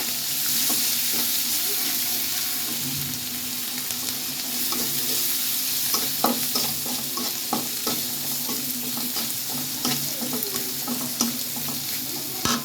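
Onion, green chilli and turmeric fry in a pan with a steady close sizzle, while a spoon scrapes and stirs in scattered clicks and knocks throughout.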